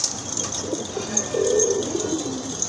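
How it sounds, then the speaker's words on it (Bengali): A pair of jumbo-sized pigeons coo close by, a soft low burbling call that swells briefly midway through, with faint background hiss and no talk. "খুবই সুন্দর এক জোড়া কবুতর, কোয়ালিটি খুব দেখার মতো, একদম জাম্বো সাইজের কবুতর"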